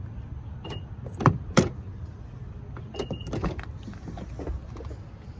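Door locks on a 2010 Mazda CX-9 AWD clunk as they unlock and then lock by button, two sharp mechanical thumps about a second apart followed by a second burst of clicks, heard close inside the vehicle with no talk.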